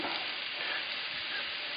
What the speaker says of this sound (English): So you want it to sizzle when you drop it.